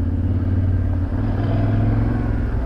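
A Yamaha Tenere 700 motorcycle engine drones steadily and loudly up close as the rear wheel spins in snow, with a low, even rumble throughout.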